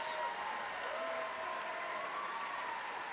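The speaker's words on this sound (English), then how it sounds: "a big round of applause" Crowd at a high school basketball game between Mifflinburg and Danville applauding the starters during a timeout, a soft, steady wash of clapping heard from a distance with faint voices mixed in.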